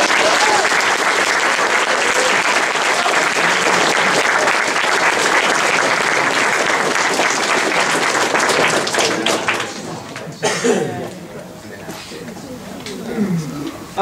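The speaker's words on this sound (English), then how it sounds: "please give yourselves a round of applause" A convention crowd at a closing ceremony claps loudly and continuously for about ten seconds, then the applause thins out into scattered claps and faint voices.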